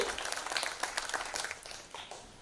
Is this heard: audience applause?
yes